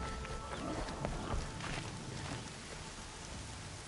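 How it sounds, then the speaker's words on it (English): Steady rain pattering across surfaces, a continuous broadband hiss with scattered drops, no voices. "Pressure's lifting. Rain's here."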